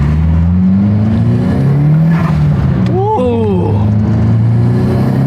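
JDM car with a Nissan SR engine and stock turbo, pulled out after sitting a decade, accelerating loudly close by with a rising engine drone, a quick rev and shift midway, and a brief exclamation from a person.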